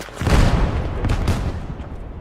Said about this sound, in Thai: โอ้โหอะไรระเบิด